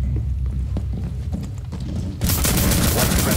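Gunfire in the Rainbow Six Siege video game, with scattered shots and clicks followed by a sudden loud, sustained burst of rapid fire near the end.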